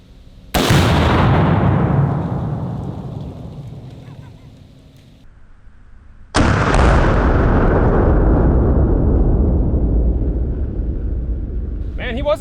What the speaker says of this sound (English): Hollow points really do explode on impact.